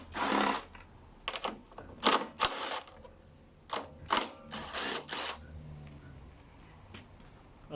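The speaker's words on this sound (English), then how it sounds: "using an M13 socket, we need to remove these 3 cup nuts" Socket wrench work loosening three cup nuts with an M13 socket on the pull starter of a TALON Mach 460, heard as a series of short, sharp ratcheting and clicking bursts separated by pauses, fairly close and crisp.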